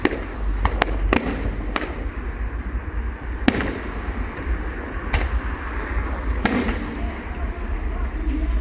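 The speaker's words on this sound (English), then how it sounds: "They've spent a lot of money on these fireworks" Fireworks from a Denbigh versus Rhyl display in 2025 pop and crack at a distance, several sharp bangs scattered across a steady crowd and outdoor rumble.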